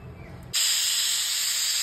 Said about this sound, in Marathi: आता एक शिट्टी झालेली मंडळी, गॅस बंद करायचा।